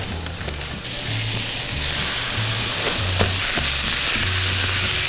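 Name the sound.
ground beef and onion frying in a pan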